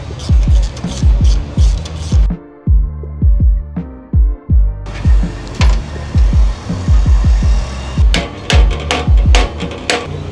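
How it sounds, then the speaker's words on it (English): Someone taps a motorcycle axle out, likely with a brass drift, during a lug-mount floating brake caliper install: a steady run of sharp, ringing metallic taps, close and loud, with a brief pause partway through. "anytime you have to tap an axle out, make sure you're tapping it, not pounding it"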